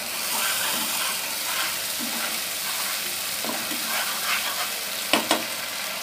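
Garlic spice paste fries in a pan for dhoniya chicken while it is stirred, giving a bright steady sizzle with soft scraping strokes and a couple of sharp spoon taps near the end, close up and without speech.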